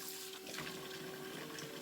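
Steady broadband rush of warm water running from a kitchen tap into a sink while washing collard greens, continuous and fairly close, with a faint hum underneath.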